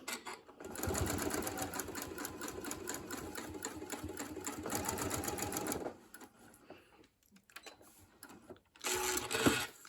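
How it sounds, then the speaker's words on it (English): A sewing machine stitches a quilt pinwheel block in a fast, steady run of rapid needle clatter for about five seconds, pauses briefly, then restarts with a short final burst. "I will sew a little bit faster to finish this up"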